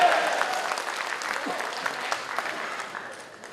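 Applause from an audience at a grand reception, a dense, steady clapping that fills the room and slowly tapers off toward the end.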